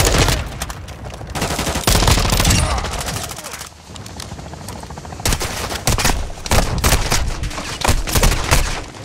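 Heavy automatic gunfire in Call of Duty Modern Warfare 2 (2022), loud and close, with dense bursts of rapid shots broken by short pauses, joined by a little voice.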